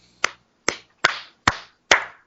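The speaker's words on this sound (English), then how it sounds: "That's my golf clap, folks." Five slow, crisp hand claps ring out one at a time with even gaps, close and alone with no voice, a deliberately unenthusiastic golf clap reacting to a wrestling segment.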